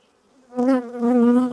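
Angry honey bees buzz close around a beekeeper's hands during requeening of the hive, a sudden loud drone that swells, dips briefly and keeps going.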